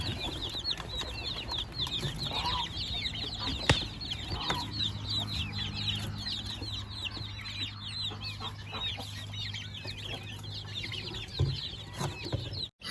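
Native Thai chicks raised on a farm peep and cluck continuously in a quiet, steady chorus, with a low background hum and an occasional sharper knock.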